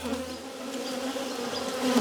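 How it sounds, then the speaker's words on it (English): A strong, healthy honey bee colony living in a barrel buzzes loudly and continuously up close, a dense droning hum that swells slightly toward the end, with no talking. "Very strong colony, good healthy bees, as you can hear."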